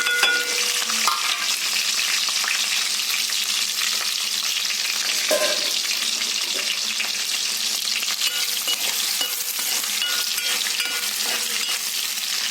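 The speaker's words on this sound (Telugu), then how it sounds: "ఆయిల్ వేడయ్యాక కట్ చేసి పెట్టుకున్న ఉల్లిపాయ, పచ్చిమిర్చి, కరివేపాకు కూడా వేసుకుందాము." Onions, green chillies and curry leaves fry in hot oil for a simple chicken fry, giving a steady, loud, dense sizzle throughout with a few brief stirring scrapes near the start and middle, no voices.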